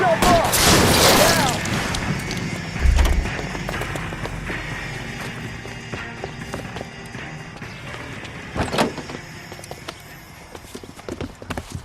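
Bursts of gunfire ring out during a car chase in the video game L.A. Noire, with heavy engine and road rumble, booming impacts and a clattering rush of noise, and talk can be heard in parts.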